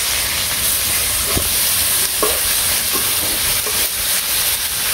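Katla fish frying in a pan for a simple village meal, a loud continuous close hiss and sizzle with a few faint clinks of a utensil.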